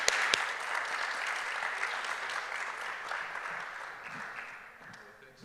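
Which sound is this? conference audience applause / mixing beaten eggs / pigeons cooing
conference audience applause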